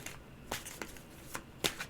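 Egyptian-themed oracle cards being shuffled, a few soft riffling bursts and taps close by, fairly quiet, with no talking.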